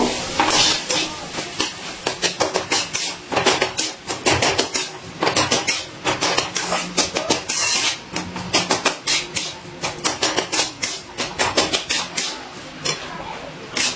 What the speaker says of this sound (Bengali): এবারে সব কিছুকে ভালো করে মশলার সাথে মিশিয়ে একটু নাড়াচাড়া করে নেব।